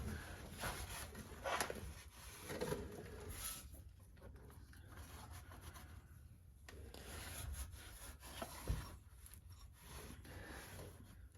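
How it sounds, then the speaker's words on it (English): Cloth or rag wiping the sealing surfaces of a 4L60e transmission pan on a 1999-07 Silverado during a service, faint close rubbing strokes in irregular bursts with no talk. "we want to just kind of wipe off all these sealing surfaces"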